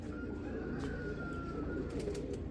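Rare Sina pigeons give low, rolling coos in a continuous murmur, with a faint thin tone drifting above and a few brief sharp sounds near the end.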